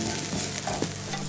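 Half an onion, finely chopped, frying in a preheated skillet until golden, giving a steady close sizzle with light stirring and no voices.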